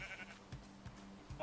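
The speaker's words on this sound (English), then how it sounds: "Ooh, is that a black sheep?" A sheep in the Minecraft Better Than Wolves mod gives a faint bleat, quiet beneath game ambience with a few soft clicks.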